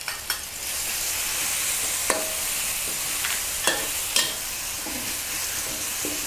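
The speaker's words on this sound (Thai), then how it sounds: "ผัดพริกกับกระเทียมให้หอมก่อนนะ" Chili and garlic pounded together stir-fry in a little oil for a Thai glass-noodle dish with minced pork and basil, giving a steady loud sizzle with several sharp clicks and scrapes of a utensil stirring in the pan.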